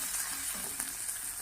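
Turmeric and asafoetida saute in hot oil, a soft continuous sizzle with faint stirring, close and steady for a brief moment.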